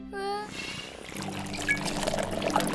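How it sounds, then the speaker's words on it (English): Bubble mix pours and trickles in a cartoon car wash, a short liquid glug and splash following a bright synthetic sound, with faint background effects and no clear talking. "Come on, Diggly, let's put in all the bubble mix."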